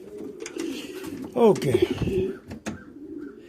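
Valenciano mix pigeons at a pigeon show coo in low, throaty bursts close by, mixed with handling noise and a person speaking briefly.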